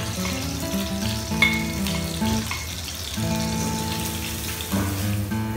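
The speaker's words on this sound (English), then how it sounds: "stir fry the onion and the garlic" Onion and garlic stir-frying for fettuccine with mushrooms, a steady broad sizzle running throughout with a faint background tone and a brief dip midway, close and fairly loud, no voices.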